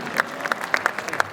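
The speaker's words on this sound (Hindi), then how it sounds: "एक बार जोरदार तालियों के बीच।" A crowd at the Voice of Delhi singing competition grand finale bursts into brief applause, with uneven clusters of claps over a short stretch.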